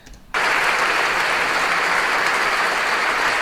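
A political audience breaks into dense, sustained applause that starts abruptly and holds at full strength.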